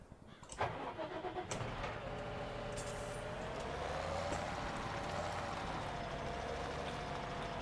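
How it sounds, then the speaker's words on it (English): A tractor engine in Farming Simulator 17 cranks with a few sharp starter pulses, then settles into a steady, close mid-pitched running drone that holds evenly to the end, with no voices. "So a big tractor that will do this quite fast."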